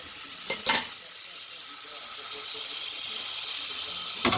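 Butter sizzles steadily in a hot pan for garlic, lemon and white wine cooking, a soft continuous hiss with a couple of brief utensil clatters near the start and end.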